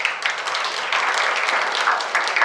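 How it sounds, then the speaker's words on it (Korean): An audience at a youth history research presentation contest in Jeollanam-do applauds student presenters, giving a steady, even patter of many hands that stays dense and moderately loud throughout. "큰 박수 주시기 바랍니다"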